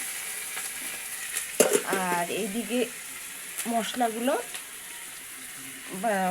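A steady hiss of rohu fish frying fills the background while someone talks over it in short phrases.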